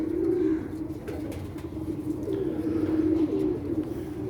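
Pigeon cooing close by, a steady run of low, throaty rolling coos repeating with little pause, the caught bird drinking water outdoors, no voices.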